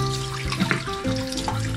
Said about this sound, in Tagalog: Hugasan na natin siya ng maigo.